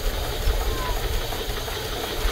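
A steamboat's steam engine warming up, running in reverse: a steady engine rumble with a continuous hiss of steam, low and constant throughout, with no clear talk over it.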